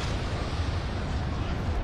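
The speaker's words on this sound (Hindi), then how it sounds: "अच्छा धमाका, ओ कितना मस्त लग रहा है भाई" Explosion in a monster vs army battle video game, a continuous dense booming roar of blasts sustained for a couple of seconds, loud and up close.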